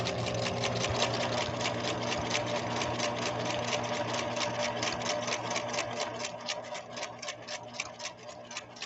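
An air-powered Husqvarna Viking sewing machine stitches in a fast, steady, even run of close, loud mechanical ticks with a low motor hum underneath, continuing unbroken with no voices.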